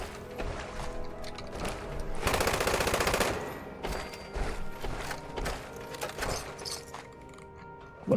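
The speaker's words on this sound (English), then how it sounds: "I was hearing the sound of the weapon, but nothing is coming out." Weapon fire in the video game Fallout 76, a rapid mechanical burst of automatic shots in the middle, surrounded by clicking, clanking weapon handling and game effects.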